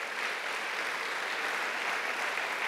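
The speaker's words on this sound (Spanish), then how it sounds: "Dele palmas al Señor" A church congregation applauds the Lord during a sermon, steady rapid clapping from many hands filling the room evenly for a few seconds, with no talk over it.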